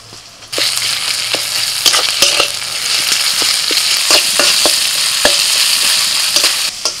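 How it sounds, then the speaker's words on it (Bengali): A ginger, garlic, onion and spice paste with green chilli and tomato fries in a pan, giving a steady close sizzle, while a spoon stirs and scrapes with irregular sharp clicks throughout. "আদা রসুন পেঁয়াজ সব মশলাটা ভালো করে ভাজা হয়ে গেছে"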